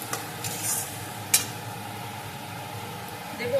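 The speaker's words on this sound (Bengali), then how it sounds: "এখন আমি দেব কাজু পোস্ত বাটা, এটা দিয়েও আমি কিছুক্ষণ নেড়ে নেব" Cashew and poppy seed paste stirred into spiced oil in a pan for an Indian cauliflower and potato curry, a soft steady sizzle with a few scraping stirs and sharp utensil clicks close by.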